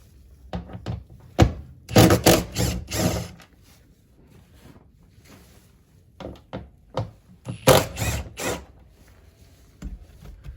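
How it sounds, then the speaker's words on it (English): Scattered clicks, scrapes and knocks from a screwdriver working screws out of a 2017-2021 Honda Ridgeline truck bed, in two uneven bursts separated by a quiet gap, close by. "remove these 3 screws here on each side"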